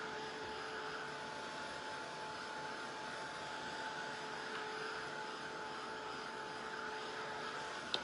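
A hair dryer blows a steady, unbroken whoosh with a faint high whine as it dries paint on a craft snowman project, continuous and moderately loud throughout.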